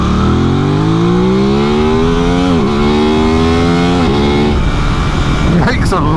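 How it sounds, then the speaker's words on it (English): An Aprilia RS660 parallel-twin sports motorcycle revs hard, its engine note climbing through repeated rising sweeps with brief drops between, loud and close over road noise. "Makes a lovely noise for a parallel twin."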